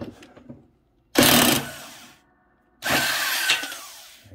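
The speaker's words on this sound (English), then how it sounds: "Okay, so I'm going to use the impact gun." A pneumatic impact gun removing the blade bolt on a Cub Cadet XT1 LT42 riding lawn mower, two loud, close bursts of rattling hammering whir about a second each with a pause between.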